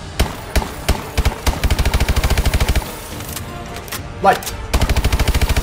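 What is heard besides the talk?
gunfire from a video game gun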